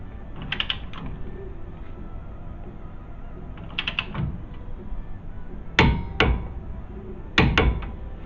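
A torque wrench tightens a Ford Super Duty rear hub nut to 60 foot-pounds, making sparse sharp metallic clicks in small clusters, louder snaps near the end, against a quiet background.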